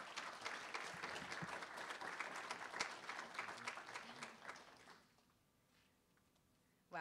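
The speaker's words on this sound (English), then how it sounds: "if you give a big round of applause to Blair Eli" An audience claps for a speaker being introduced at a university talk, a dense, even burst of applause lasting about five seconds before trailing off into near silence.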